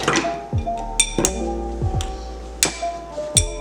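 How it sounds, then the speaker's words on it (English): Ice cube dropped into a glass of bourbon with Angostura bitters for an Old Fashioned cocktail, giving several bright clinks and ringing taps spaced through a quiet room. "After that, drop your ice cube into it."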